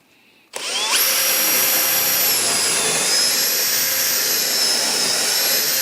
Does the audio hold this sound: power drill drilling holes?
yes